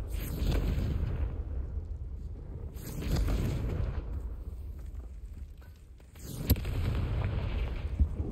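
A Confringo blasting spell in the video game Hogwarts Legacy sets off rumbling explosions, heavy low booms swelling in waves with a sharp crack near the end, moderately loud and with no voices.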